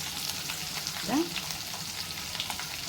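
Green chillies, cashews and asafoetida fry in hot oil with a steady close sizzle, a brief stir breaking through midway.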